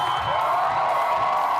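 Steady, loud crowd applause and cheering at a Comic-Con Cape Town cosplay showcase, a dense wash of clapping and shouts filling the whole moment without a break.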